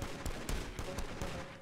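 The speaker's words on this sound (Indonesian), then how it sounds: "Oh, Cardo, with a headshot" Rapid gunfire from an armed heist in the GTA V video game rings out as a string of about seven sharp shots at a steady, quick rhythm, moderately loud.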